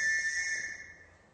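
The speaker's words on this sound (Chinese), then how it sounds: "近尾声嗰阵，观众席上传出哨子声" A whistle blown from the audience seats at a formal signing ceremony, a steady shrill tone held for about a second, fading and tailing off toward the end.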